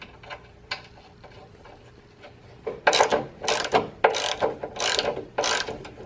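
A nut and washer being fastened onto a bolt on a SCAG V-Ride mower, scattered light clicks giving way to a run of loud, rhythmic ratcheting bursts close by, with no talk.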